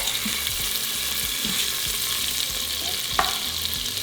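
Meat browning in hot frying oil for birria verde, a dense continuous sizzle close by with light scraping and stirring sounds and a brief clink near the end.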